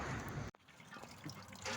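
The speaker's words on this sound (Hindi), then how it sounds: "तो मैं मशीन पे आ गया हूँ और पानी भर रहा हूँ।" Water runs into a container at a water-filling machine, a steady close hiss and trickle that breaks off briefly and then starts again, with no one talking.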